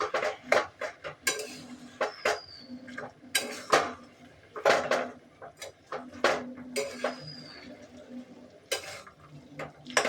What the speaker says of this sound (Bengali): এবার এটা ভালো করে নাড়তে হবে